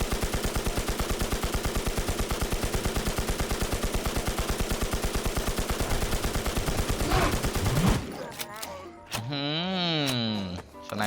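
Rapid automatic gunfire from shooting ghosts in the online survival game NewZ, a dense steady burst of shots for about eight seconds, then wailing ghostly moans and effects take over as the firing stops.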